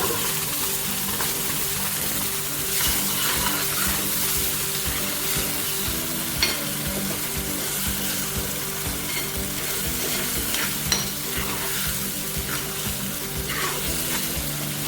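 Ground chili chutney (milagai tuvayal) fries in a pan with a steady, dense sizzle and crackle. The hiss holds level throughout, with an occasional scrape or stir and no talking.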